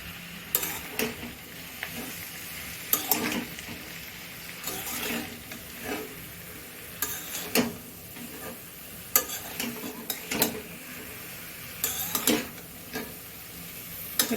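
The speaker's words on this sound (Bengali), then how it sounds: "এবার দেওয়া হবে বাঁধাকপি।" Cabbage stir-fried in a pan with fish head over low heat, soft sizzling punctuated by repeated scraping and clanking strokes of a spatula against the pan, close and moderately quiet.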